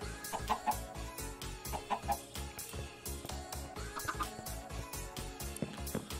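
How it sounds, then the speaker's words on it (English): Chickens cluck in the modded Minecraft pack StoneBlock 2, short repeated clucks over a steady musical backdrop with rhythmic low thumps, several calls close together. "I got more chickens over here."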